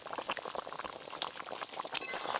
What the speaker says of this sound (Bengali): ঝোলটা একদম টকবকে হয়ে ফুটে গেছে